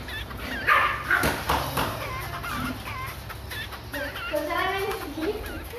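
Barking from two household dogs cuts through a noisy room in short, loud bursts, alongside whimpering and yelps, with people talking at the same time.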